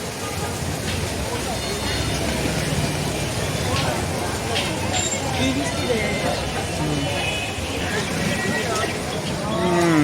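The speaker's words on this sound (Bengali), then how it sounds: "এখানে অনেকগুলো মহিষ দেখা যাচ্ছে" Buffaloes and cows at the Dholaikhal cattle market in rain make a dense, noisy scene, with a couple of drawn-out moos rising over constant crowd chatter and background clatter.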